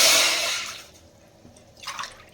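Water poured into a cooking pot while making a North Karnataka style jowar dish: a broad rushing splash that fades over the first second, then a short second gush near the end. No talking.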